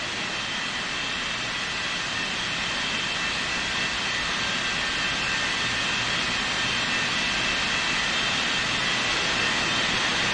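A UPS cargo jet taking off from runway 14 left at a big commercial and cargo airport, a loud continuous roar of jet engines that stays broad and steady throughout, with no talking.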